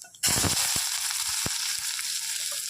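A sudden loud sizzle bursts in as cinnamon, cloves, fennel and onion hit hot oil for Chettinad chicken gravy, then settles into a steady frying hiss with a few scattered pops and clicks.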